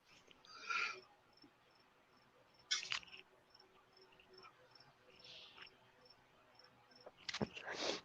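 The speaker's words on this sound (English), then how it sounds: "I hear crickets too!" Crickets chirp in a faint, steady repeating pattern in the background, with scattered quiet rustles and handling noises over it.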